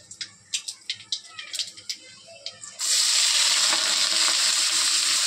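Food drops into white cooking oil after a series of quick taps and clicks, setting off a sudden loud, spattering sizzle that stays strong and close to the end.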